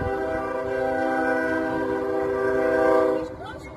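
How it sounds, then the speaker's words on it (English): A train passes close by with a loud, steady horn chord sounding for about three seconds over low rumbling, then cutting off as the rumble fades. "I hear a train."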